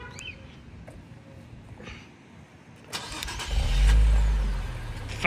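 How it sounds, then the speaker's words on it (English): An Infiniti Q60 engine, started by factory remote start, cranks and catches after a few faint clicks, then settles into a steady low idle that continues to the end. "Factory remote start still works."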